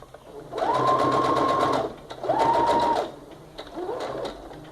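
A sewing machine stitches and backstitches a toiletry bag in three close bursts, two long runs then a shorter one, each a rapid mechanical rattle with brief pauses between.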